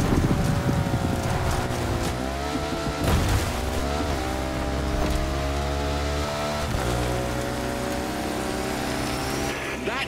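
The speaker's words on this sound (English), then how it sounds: "That is an awesome bike you got there. A BMW R1200GS, if I'm not mistaken." A BMW R1200GS Adventure motorcycle ridden in the racing game The Crew Motorfest, its engine droning steadily with rising and falling pitch through gear changes, loud and close alongside rushing wind and road noise, with no talk.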